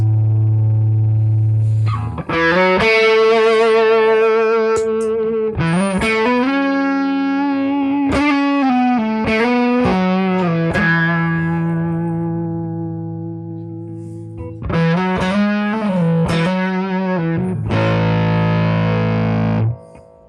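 Electric guitar played through a Fender Deluxe Reverb amp with the tone controls turned down and the volume at ten, bass only, giving a loud, thick, distorted tone. Sustained chords ring out in several phrases with brief gaps between them, and nobody speaks.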